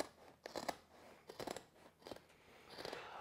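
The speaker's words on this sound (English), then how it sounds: "We're just going to cut through the carpet." Scissors snip through stair carpet in several distinct bursts, each a crisp, close cutting crunch separated by brief pauses, quiet overall.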